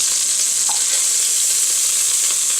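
Beef pieces browning in a hot pan give a steady, loud, close sizzle and hiss that runs without a break throughout.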